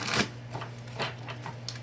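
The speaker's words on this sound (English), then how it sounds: "So I'm going to shuffle 2 more times and see." Tarot cards being shuffled by hand, a few soft riffling bursts and papery slaps close by, alone with no talk.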